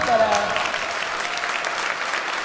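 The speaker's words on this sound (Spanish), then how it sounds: "aplausos para él" Applause from an audience at a missionary illusionist's show, a steady wash of clapping that runs throughout and fades slightly toward the end, with a faint voice over it at the start.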